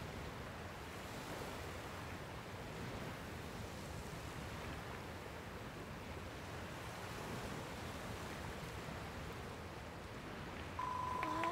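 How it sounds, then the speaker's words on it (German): Steady rushing water ambience from a river in the video game Dragon Quest Builders 2, a constant broadband wash like surf or wind with no distinct events, faint and even throughout, a brief tonal blip near the end. "Bewundern wir doch unseren unglaublichen Fluss."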